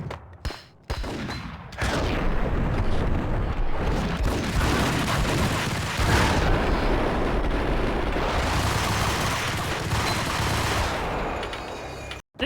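Grenade explosions in the video game Max Payne, a long roaring blast with rumbling, crackling debris that swells and fades over several seconds after a few short sharp bangs at the start.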